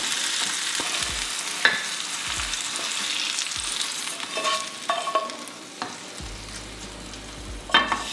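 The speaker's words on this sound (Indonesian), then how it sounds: "Jadi ini cara gue masak bikin telur ceplok ala Kalimantan." A sunny-side-up egg fries in a pan Kalimantan style, giving a continuous bright sizzle with scattered pops and a few soft clicks of a utensil, with no talking.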